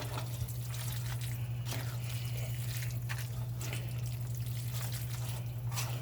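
Running water splashes steadily from a tap over noodles being rinsed in a sink, with a constant low electrical hum underneath and no talking.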